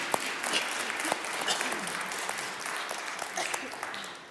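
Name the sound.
applause for church choir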